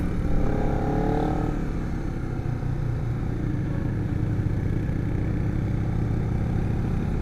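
A Honda CBR250RR motorcycle engine hums steadily while riding, a constant close mid-pitched drone with a brief rising rev near the start, continuous and loud with no voices.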